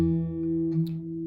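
A guitar chord is struck once and rings out close and clear, its sustained tones slowly fading with nothing else heard.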